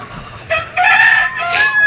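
Chickens and a rooster kept as backyard poultry in a rainy rural yard, the rooster crowing loudly in drawn-out calls while hens cluck alongside, close and filling the whole moment.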